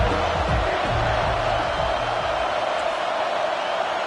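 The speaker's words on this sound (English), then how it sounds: "this crowd is tearing the lid off this place" A stadium crowd roars at a college football game between Missouri and Texas A&M, a dense, steady wash of massed voices that stays loud and sustained throughout.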